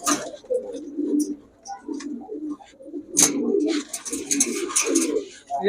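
Pakistani Bapra pigeons coo close by in soft, repeated throaty bursts, with voices talking intermittently over them.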